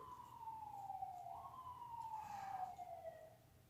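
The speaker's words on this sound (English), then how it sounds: "the ambulance has been, oh, it drove by" An ambulance siren wails down a busy residential street, its falling and rising tone sweeping past at moderate distance over a soft background hum.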